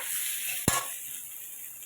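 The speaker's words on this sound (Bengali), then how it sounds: "আর তাই একটু ভাজা ভাজা হতে থাকুক এটা।" Water spinach and fish frying in a pan: a steady faint sizzle runs throughout, with one short louder scrape or stir near the middle and a soft clink at the end.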